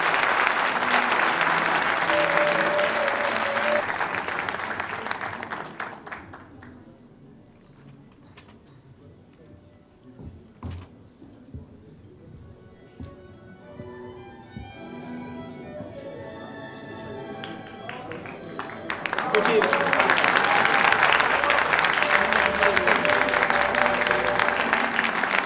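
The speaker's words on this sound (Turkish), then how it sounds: "Ben tüm eğitmenlerimiz için tekrar bir toplu alkış isteyeceğim." Applause breaks out at a quality-association certificate ceremony in Bursa, a loud burst of clapping that fades to scattered claps and murmuring, then swells again into strong, sustained applause from the audience.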